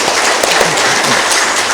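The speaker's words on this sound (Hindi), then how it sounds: "हाँ, जोर से तालियां बजाओ।" An audience at a Brahma Kumaris meditation class in Lucknow claps loudly in a steady, dense wash of sound, with faint tonal traces that may be a voice or music underneath.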